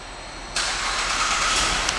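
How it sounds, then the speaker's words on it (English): A 2011 Buick LaCrosse CXS engine starts abruptly by remote start partway through, then settles into a steady broadband running roar with no voices. "And the car turns right on."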